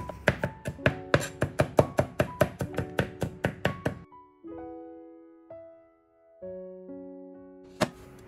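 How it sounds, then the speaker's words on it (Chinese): Garlic cloves being chopped into mince with a cleaver on a board: about a dozen quick, sharp, evenly spaced knocks, close and loud, then a pause with a low tonal hum and one last chop. "然后剁成蒜蓉"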